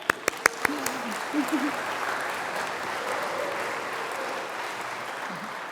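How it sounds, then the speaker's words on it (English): Audience applause at a college opening convocation ceremony, a steady wash of clapping from a large crowd that carries on for several seconds, with a few sharp claps and brief voices at the start. "So applause for the weather."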